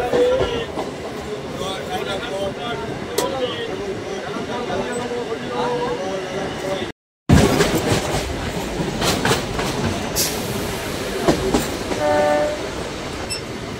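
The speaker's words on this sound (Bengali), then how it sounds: "এবার আমাদের ট্রেন ঢুকছে" A MEMU commuter train on the Naihati–Baharampur line rolls into a station, with loud clattering wheels, rumbling carriages and horn blasts, while vendors and passengers talk over the noise.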